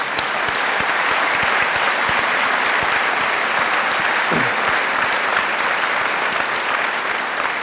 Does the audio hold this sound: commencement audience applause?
yes